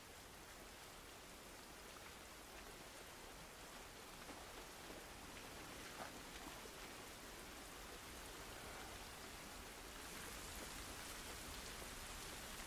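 Steady rain in the video game The Last of Us Part 1 hisses as a dense, even wash of drops on surfaces, growing slightly heavier toward the end, with no talking.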